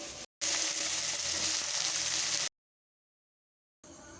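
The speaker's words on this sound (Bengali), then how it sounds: "আলু নাড়াচাড়া করে ভেজে নেব" Washed potatoes frying in hot oil with panch phoron and dried red chili, a dense close sizzle that cuts off abruptly twice, leaving silent gaps before a quieter return.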